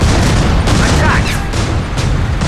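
Tank cannon fire in Tank Company mobile battle, a few heavy close booming shots in quick succession over a dense rumbling engine and battle bed, loud and short.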